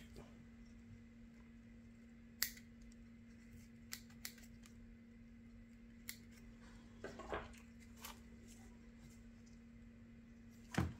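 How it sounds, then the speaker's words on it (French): Scissors snip through Adenium roots in a few sharp, quiet cuts spaced apart over a low steady hum, with soft handling rustles between them. "2-3 coups de ciseaux là-dedans."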